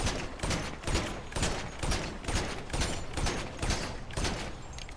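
Rapid bursts of video-game gunfire from Grand Theft Auto 5, loud and close, rattling in a steady repeating rhythm across the whole stretch with no talking over it.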